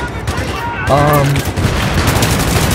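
Gunfire in the Battlefield 3 shooter game on the Operation Metro map: a loud, close burst of rapid shots with dense crackle, steady and unbroken over a few seconds.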